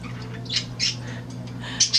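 A pet bird preening a person squawks in short, harsh bursts, three or four close, loud calls spaced irregularly over a low indoor hum.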